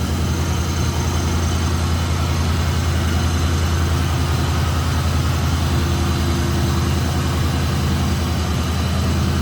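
A modified 2001 Ford Mustang Sean Hyland Motorsports edition engine runs at a steady idle, a constant deep rumble with broadband hum, close and loud without variation throughout.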